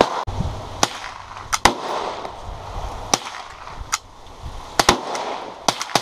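Sharp shots from a Stevens Ranger 101.16 gill gun ring out one at a time in an irregular series, each a loud, close crack over quiet background noise.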